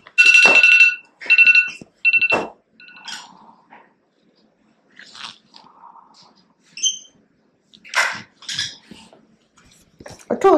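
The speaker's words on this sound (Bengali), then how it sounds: "এখনো অ্যালার্মটা বেরিয়ে যাচ্ছে।" An alarm clock rings at home early in the morning with loud, repeated bright beeping bursts over the first few seconds, followed by quieter scattered tones and brief voice-like sounds.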